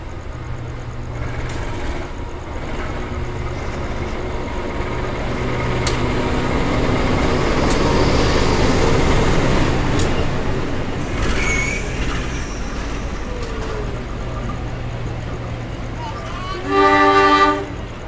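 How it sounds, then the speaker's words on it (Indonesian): A Kuto Jaya Selatan passenger train pulls in at Gandrung Mangun station, a long rumbling rolling roar swelling close by with faint wheel squeal, then a brief tonal horn blast near the end while someone talks over it. "Kita akan bersilang dengan kereta api Kuto Jaya Selatan yang udah kelihatan sorot lampunya"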